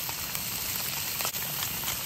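Steady crackling sizzle of thick-cut pork on a hot grill while camping in Appenzell, Switzerland, a dense hiss like rainfall, continuous and close with no talking.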